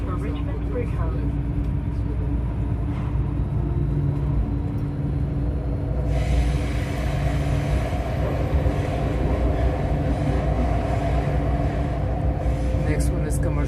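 A Vancouver SkyTrain metro train running toward Richmond-Brighouse, a steady close rumble and whine of wheels on track that continues throughout, with people talking over the ride noise.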